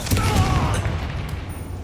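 The Confringo fire spell erupts in a Hogwarts Legacy duel as a brief low boom with crackling, rumbling debris that quickly fades.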